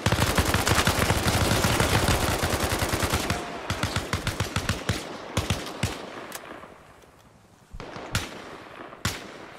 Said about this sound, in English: can you guys stop shooting each other? We've got a lot of friendly fire going on here.